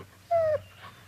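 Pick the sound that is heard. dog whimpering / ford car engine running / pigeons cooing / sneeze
dog whimpering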